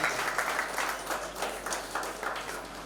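Audience at a foundation anniversary celebration in Visakhapatnam breaking into applause, a steady wash of many hands clapping at moderate distance, lasting throughout without a break.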